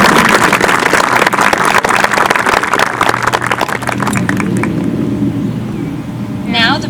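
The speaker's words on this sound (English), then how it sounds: "Let's give a round of applause for the WMS Strings members" An audience at an 8th grade promotion ceremony applauds the WMS Strings members, with dense clapping that is loud at first and fades over several seconds as a voice begins speaking near the end.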